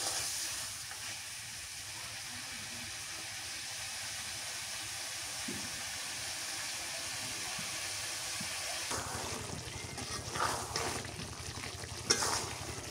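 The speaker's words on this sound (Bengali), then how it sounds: "মাংসটা কষাই নিতেছি ভালো করে।" Native free-range chicken being stir-fried down in a pan, a steady close sizzle with scraping stirs that grow louder and more clattery toward the end.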